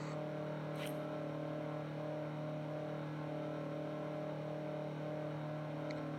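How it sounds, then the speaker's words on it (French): Steady car engine drone from the racing video game Forza Horizon, a constant hum holding a level pitch throughout, with a brief higher whir near the start and no talk over it. "vous voyez comment elle fait du bruit, la voiture?"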